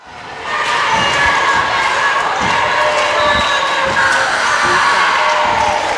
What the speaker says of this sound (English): we've got a loud crowd of Ladycats faithful here